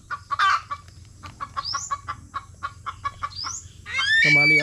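Chickens and chicks being chased by a dog cluck and squawk in a rapid, agitated series of calls, close by, ending in a louder burst of alarmed cackling.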